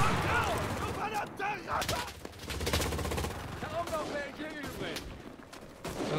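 Machine gun fire in the Enlisted video game, with dense bursts of rapid shots packed around voices talking over the action.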